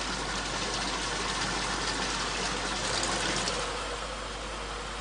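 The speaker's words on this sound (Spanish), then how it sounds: "El arroz pasa por una zona de duchas donde se le retira la fina capa de harina" Water spraying over rice in a factory washing shower, a steady loud hiss and gush of water continuing evenly throughout with no voices.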